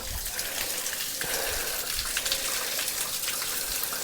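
Steady rushing of a flowing stream on the way to a waterfall, close and continuous, with a bright splashing texture throughout.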